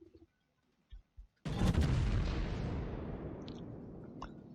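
The battleship Roma fires its main guns in a naval video game: after a few quiet clicks, one huge booming salvo erupts and rolls on as a long, slowly fading rumble.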